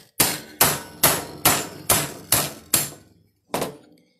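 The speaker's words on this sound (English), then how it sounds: "So I'm going to just use my hammer." Hammer striking a steel disc cutter punch while cutting metal jewelry discs: eight sharp, loud metallic blows, seven in a steady rhythm, then a short pause before the last, each ringing briefly.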